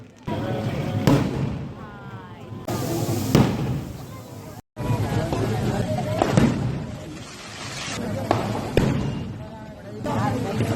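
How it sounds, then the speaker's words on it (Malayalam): Loud fireworks bang and crackle in several sharp bursts spread across the clip, over a steady wash of crowd noise and voices. "പിന്നെ വെടിക്കെട്ട് തുടങ്ങിയിട്ടാ"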